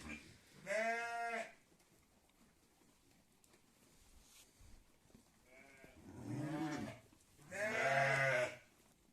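Lambs on a village farm bleat three times, close and clear, a short call near the start and two longer wavering cries later, with quiet pauses between.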